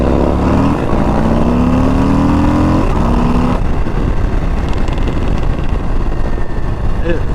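A 2022 Harley-Davidson Low Rider ST with the 117 engine at speed, its engine note climbing steadily before giving way to heavy buffeting wind noise, with a rider talking loudly over it.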